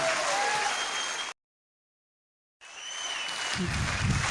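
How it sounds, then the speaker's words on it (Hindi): An audience at an RCM business gathering applauds loudly with dense clapping, which cuts out briefly to silence and then resumes with similar crowd applause. "आप सब लोग जोरदार ताली इसलिए बजाएं"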